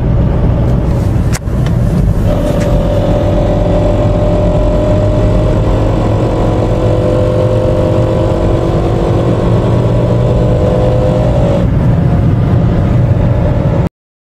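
A continuous car engine drone while driving, with a steady whining tone from a faulty gearbox that holds level for most of the recording, loud and close.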